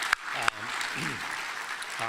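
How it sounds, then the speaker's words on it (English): Conference audience at a National Autonomous Vehicle Day event applauding in a hall, a steady broadband clatter of clapping lasting the whole moment, with a couple of sharp thumps and brief voices near the start and end. "Give them a big round of applause"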